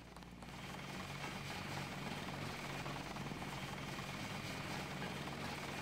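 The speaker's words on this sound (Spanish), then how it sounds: "Helicóptero de combate." A combat helicopter in Deus Ex, its rotor and engine throbbing loud and steady, nearby and unbroken for several seconds, with no talk over it.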